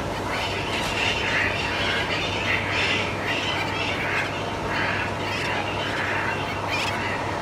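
Seabirds call and squawk continuously from their nests on big rocky cliffs on Lord Howe Island, a dense, steady colony chorus of overlapping cries with a constant low hum beneath.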